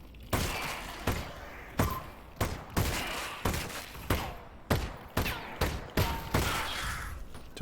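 Rapid bursts of SMG fire in the VR shooter Half-Life: Alyx, a dozen or so sharp, loud shots in a quick uneven rhythm with no voices over them.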